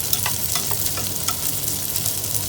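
Lomo saltado with a splash of vinegar being stirred in a hot pan, a steady close sizzle and frying hiss with soft scraping stirs, no voices.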